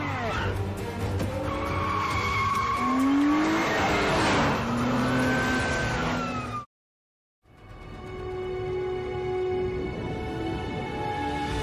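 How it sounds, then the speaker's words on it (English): A film car chase: loud engines roar and tires skid and squeal in long sliding whines, then a brief cut to silence before more driving noise resumes. "the whole car chase scene is just vintage woo."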